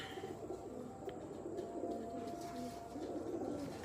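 A Salara Teddy pigeon coos softly and continuously, faint and close, against a low murmur of background noise.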